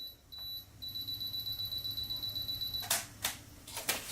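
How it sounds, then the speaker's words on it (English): A phone camera self-timer counts down with a rapid run of soft, evenly spaced beeps, followed by a few louder clicks near the end. A high tone holds steadily through the countdown, and no one speaks. "You hear the timer going off."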